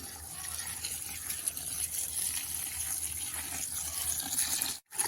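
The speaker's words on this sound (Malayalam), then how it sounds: "അപ്പോൾ ഇതിലേക്ക് വെള്ളം കൂടി ചേർത്ത് കൊടുക്കുകയാണ്" A continuous gushing rush of water filling a small bucket, steady throughout, with a brief dropout near the end.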